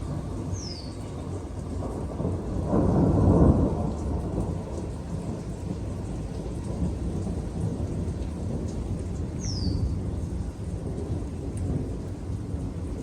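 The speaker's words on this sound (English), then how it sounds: "Oh, there's some more thunder." A low, rolling rumble of thunder swells and fades over steady rain, with a couple of faint bird chirps in the distance.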